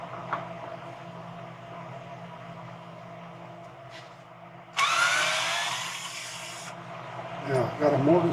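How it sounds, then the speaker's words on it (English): A wood lathe with a chuck clamped into the mortise of a live-edge bowl blank spins up briefly, a bright whirring hum rising suddenly for about two seconds amid low workshop noise, then cutting off. "I clamp the chuck into the mortise and spin it up a little to be sure it turns true."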